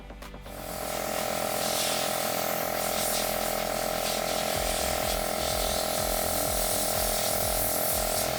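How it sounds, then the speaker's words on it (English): Sandblaster with 120 grit sand blasting painted, rusty metal: a steady, loud hissing rush starting after a brief pause and running unbroken, with a constant compressor drone beneath and no talk. "So it looks like the grit of sand that I have is not good enough to strip any of the paint"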